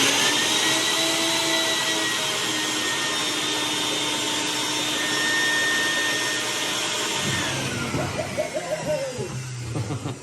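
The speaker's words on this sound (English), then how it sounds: "Okay, we're doing another vacuum." A shop vac drawing water to fill an inverted pond aquarium gives a steady, loud motor whine that holds for several seconds before winding down, its pitch falling and sputtering as it shuts off.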